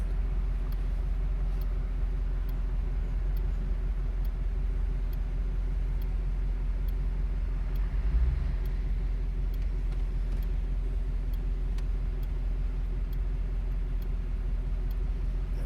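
A 1971 Dodge Challenger convertible, original and unrestored, idles steadily with a low, continuous engine rumble that holds even throughout, with no one talking.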